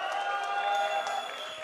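Crowd applause and cheering fill an esports arena during a PNG vs CLG group stage match, a steady dense wash of clapping and voices that holds loud throughout with no break.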